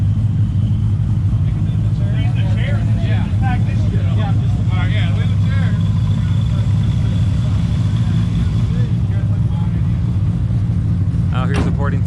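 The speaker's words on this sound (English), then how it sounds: "Oh, the Kaminsky car is idling." A race car at a Street Car Armageddon drag event idles with a heavy, steady low rumble that stays loud throughout, while people talk over it in the foreground.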